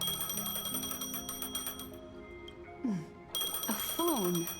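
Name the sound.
phone ringing in Honkai: Star Rail video game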